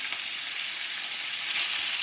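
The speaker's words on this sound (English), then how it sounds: "We'll let that sizzle up." Ground chicken sizzling in a hot oiled wok, a steady, close, bright hiss of frying with no pauses.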